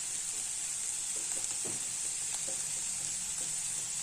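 Carrot and beans poriyal with grated coconut stir-fried in a pan, giving a steady soft sizzle with faint scraping stirs, close and fairly quiet throughout.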